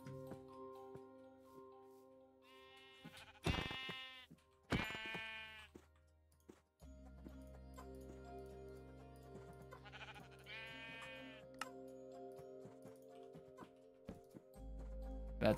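Sheep bleat in Minecraft, two clear bleats in close succession early on and another a few seconds later, heard over a steady game background hum with faint ticking.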